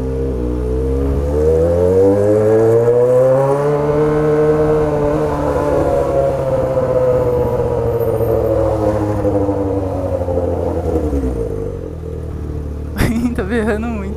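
A Jaguar XJ6 engine revs hard and loud on a city street, its pitch climbing and holding in a sustained howl before dropping away, followed by a brief sharp clatter near the end.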